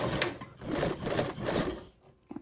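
A sewing machine runs a seam with a 1/8 inch allowance, its motor whirring in steady bursts and short pauses. It goes quiet near the end, followed by a brief click.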